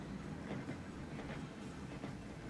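A train in the video game Transport Fever rolls into a station platform, giving a steady, fairly loud rumble of wheels and carriages with light rhythmic clatter on the rails and no voices.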